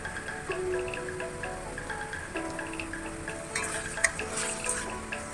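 Spice paste sizzling in oil in a pan for a Bengali fish roe dish, with a soft steady fry and occasional clinks and scrapes of stirring, fairly quiet and close.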